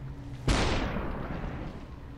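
A single loud gunshot in the video game SUPERHOT cracks out sharply and close, then its boom trails off into a long reverberant decay.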